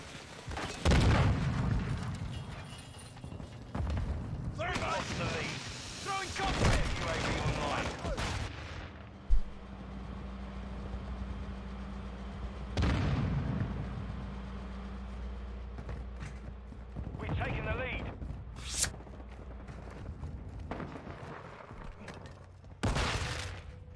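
Shotgun blasts from Call of Duty Modern Warfare 2 multiplayer ring out in repeated heavy booms and scattered bursts of gunfire, some close and loud, others more distant, with a person talking over much of the action.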